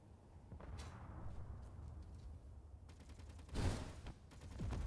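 Enemy ship gunfire in Space Engineers survival, scattered rapid volleys of shots at moderate distance, ending in a louder burst of fire and an impact.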